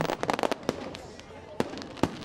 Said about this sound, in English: dynamic fireworks are the climax of the festival